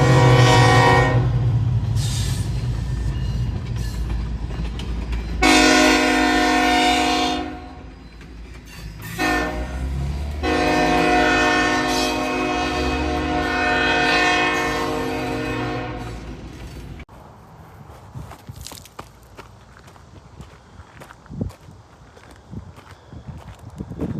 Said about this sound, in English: Did you hear that, Beau? That's a big train.